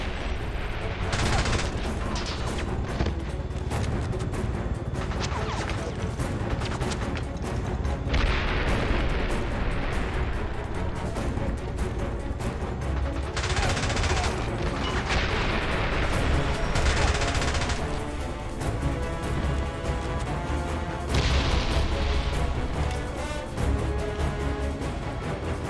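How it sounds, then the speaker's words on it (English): Missiles launching in the James Bond 007: Blood Stone video game, a dense barrage of loud booms and blasts layered over a continuous roar of engines and action music, with bursts recurring throughout. "James, he's firing missiles."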